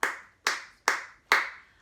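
Four sharp hand claps ring out at an even, steady pace, each close and crisp with a short decaying tail, keeping time to the children's song Old Brass Wagon.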